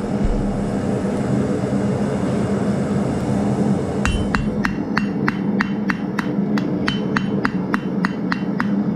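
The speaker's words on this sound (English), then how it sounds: "hammer the corners down, and then work it around" A blacksmith forging a leaf from hot steel, with a run of about a dozen sharp, evenly spaced hammer blows ringing on the anvil in the second half, preceded by a steady background drone.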